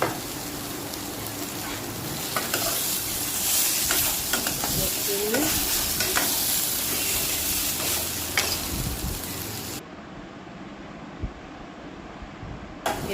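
Potato and boiled chickpea curry fries in a pan as nigella seeds are added, giving a dense, continuous sizzle with steady stirring scrapes throughout and no talking.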